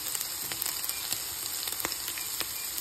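Chicken pastil frying in oil in a pan, a steady close sizzle punctuated by light scraping clicks as it is stirred, with no talking.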